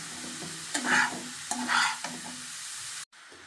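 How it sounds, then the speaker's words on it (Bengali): Grated carrots are stirred in hot ghee in a pan for carrot halwa, with a soft sizzle under repeated scraping strokes of a spoon, close up, ending in a brief abrupt cut. "এখন এই গাজরগুলা ঘির ভিতরে দিয়ে দেবো"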